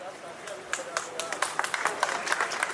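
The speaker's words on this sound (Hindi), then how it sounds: "अभिभावकगण कृपया तालियों से इनका स्वागत करें।" Parents applauding at a Uttar Pradesh Police constable passing-out parade at Chunar Fort, Mirzapur, scattered claps building into steady crowd clapping, moderately distant, with a public-address voice over it.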